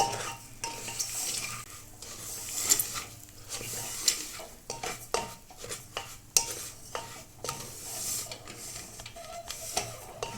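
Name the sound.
stirring broken wheat roasting in pan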